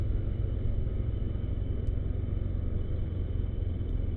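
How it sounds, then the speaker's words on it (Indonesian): Sand trucks and other traffic rumble steadily along a busy mountain road at Kintamani, Bali, a low continuous engine drone with no voices. "ada truk-truk pasir yang susah untuk disalip karena volume kendaraan cukup banyak juga"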